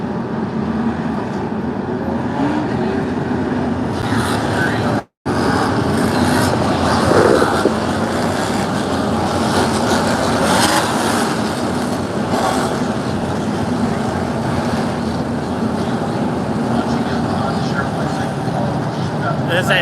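A roar of many ARCA Menards Series race car engines at a green-flag start at Bristol Motor Speedway builds and holds steady, loud and continuous, with a brief dropout early on.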